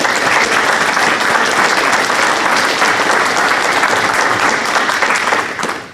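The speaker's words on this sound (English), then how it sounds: "Both of these guys deserve a round of applause for their efforts" An audience bursts into loud, sustained applause of steady density for speakers at a board recertification talk, tapering off only at the very end.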